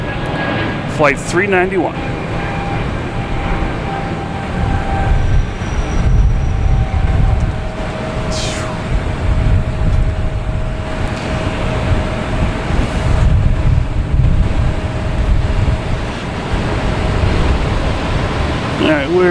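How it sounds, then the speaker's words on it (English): An Airbus A220 jet at Boston Logan Airport rumbles steadily with broad, sustained engine roar and a faint whine, heard over people talking nearby. "An A220 heading to Tampa"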